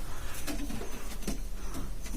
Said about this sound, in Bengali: এই কবুতর গো মোর খুবই ফেভারিট একটা কবুতর